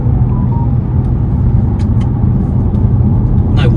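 A 2007 Bentley Continental GT 6.0 cruising on air suspension, a loud steady low engine and road rumble from inside the cabin with smooth, barely noticeable gear changes.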